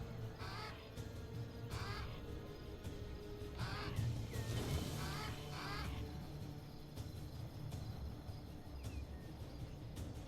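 Crows caw repeatedly in Age of Wonders 3, harsh calls recurring every second or two over a steady game ambience, fairly clear and mid-distance.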